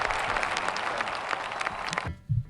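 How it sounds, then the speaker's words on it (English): Crowd applause and cheering roar steadily for about two seconds as a dense, continuous wash of clapping, then cut off abruptly into a brief low thump and near-silence. "The crowd goes wild."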